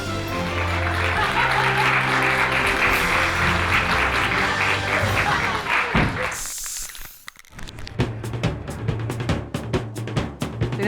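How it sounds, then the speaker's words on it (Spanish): Children applauding at a circus school festival, where loud crowd noise and music give way to a brief lull and then scattered, sharp claps and thumps that build back up, close and irregular. "Todos están aplaudiendo"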